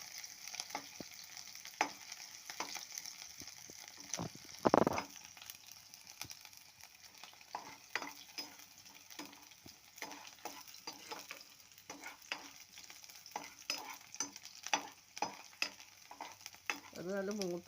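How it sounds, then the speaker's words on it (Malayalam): Chopped ginger, garlic and green chilli frying in hot coconut oil, a soft continuous sizzle with frequent scraping stirs and occasional louder clatters of the spoon against the pan, no speech. "ഇഞ്ചി, വെളുത്തുള്ളി, പച്ചമുളക് കട്ട് ചെയ്ത് വെളിച്ചെണ്ണയിലോട്ട് ഇട്ട്"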